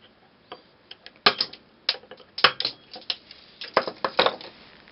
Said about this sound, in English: And then you can cut your leads.